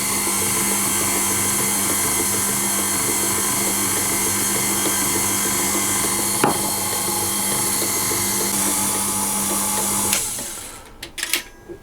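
An electric mixer beats pound cake batter while desiccated coconut is sprinkled in, a loud constant whirring drone that runs for about ten seconds and then stops, followed by a few light clattering knocks.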